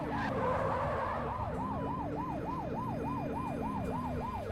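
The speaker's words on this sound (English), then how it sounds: "so we're rolling code 3, which means lights and siren." A video game police car siren wails, sweeping up and down in a steady, rapid rhythm over a constant engine rumble, loud and close throughout.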